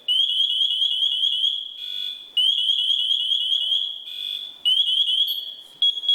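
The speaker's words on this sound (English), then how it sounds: "the audible chirping is because if you're in a smoke-filled room, you can't really see, you just follow the sound" A firefighter's safety alarm chirps loudly in a fast, repeating electronic pattern, with short gaps between bursts, alone without speech.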